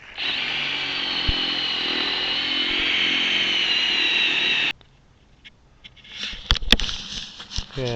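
Power drill boring a hole into a tree stump with a fluted bit, loud steady whining drone for about five seconds, then stopping abruptly, followed by quieter scattered knocks and clatter.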